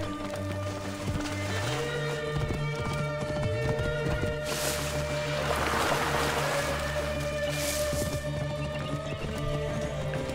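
Horse galloping in the video game Assassin's Creed Origins, steady hoof clatter with game music and ambience layered on top, continuous through the stretch.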